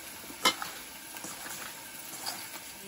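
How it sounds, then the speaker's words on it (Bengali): Onion and garlic fry in a pan for a home-cooked lotpoti, giving a soft, steady sizzle with one sharp clatter of stirring near the start. Everything stays quiet, and no one speaks. "এখানে আমি পেঁয়াজ আর রসুনটা ভেজে নিচ্ছি এই লটপটিতে দেওয়ার জন্য।"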